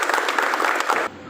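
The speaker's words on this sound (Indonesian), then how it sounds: "Tepuk tangan dulu buat kita semua." An audience breaks into applause at a martial arts gathering for pencak silat, wushu and kickboxing, a dense burst of clapping that cuts off abruptly near the end.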